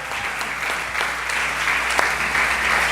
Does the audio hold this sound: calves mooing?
no